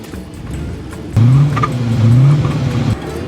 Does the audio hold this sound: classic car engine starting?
yes